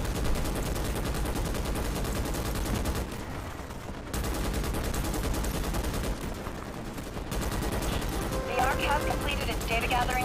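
Turret gunfire in the video game Starship Troopers, a continuous heavy stream of rapid shots filling the scene with brief lulls, under game noise and voices.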